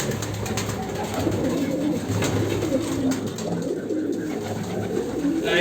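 Pigeons coo repeatedly in soft, throaty murmurs close by, several birds overlapping in a continuous burble with light rustling around them.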